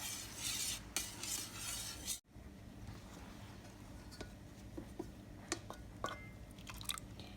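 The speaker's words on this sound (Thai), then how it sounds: "ค่ะใส่ไปหมดเลยนะคะค่ะคนให้เขาเข้ากันนะคะ" Creamer is stirred into a cooled young-coconut pudding mixture: a loud swishing churn for a couple of seconds, then softer, scattered taps and clinks of the utensil against the bowl.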